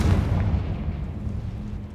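Confringo blasting spell exploding in Hogwarts Legacy, one heavy booming burst that hits at once and then rumbles away over about two seconds, with no voices over it.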